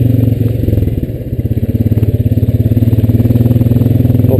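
A Honda Rancher 420AT ATV drives along with its engine running loud and close, giving a steady, throbbing mid-pitched drone and a rapid, even pulse that carries through the whole ride.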